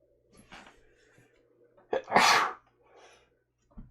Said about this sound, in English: I'm gonna sneeze here in a second, I think.